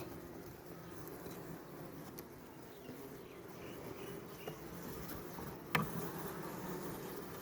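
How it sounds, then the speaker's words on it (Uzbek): Bees buzz softly and continuously around a hive, a faint steady hum with an occasional louder bee passing close. "Mana arilar hozir ko'ramiz."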